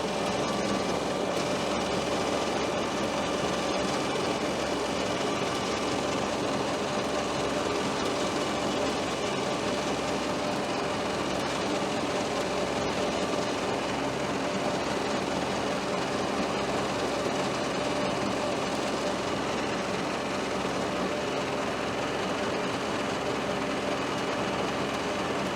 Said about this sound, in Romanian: Acum voi da cu tractorul puțin, să frezez puțin terenul